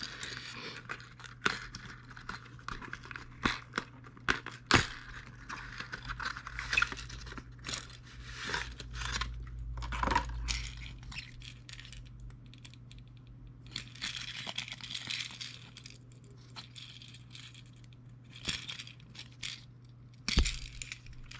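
Plastic packaging of a fishing lure bought from AliExpress being opened and handled, giving scattered crinkles, crunches and sharp clicks over about twenty seconds, with no talking.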